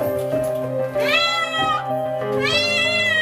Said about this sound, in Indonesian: Petugas berupaya mengevakuasi seekor kucing yang tercebur ke dalam sumur itu